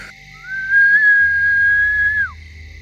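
A single sustained whistled tone, steady and fairly loud, held for about a second and a half before gliding down at the end, with a low hum underneath.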